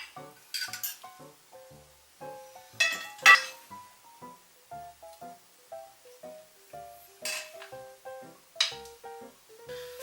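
Spicy tomato garlic shrimp spaghetti is served onto a plate, with scattered light clinks and taps of utensils against the dish, quiet and irregular, and no talking.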